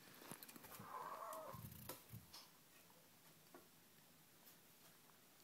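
A pet chicken makes odd, clucky noises: a warbling burst near the start, then scattered soft clicks and tick-like peeps fading into quiet room tone.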